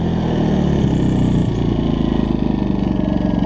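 A Generac iQ2000 inverter generator hums steadily up close as a connected air conditioner compressor kicks on, with a brief strain in the drone partway through before the engine settles into a pulsing run.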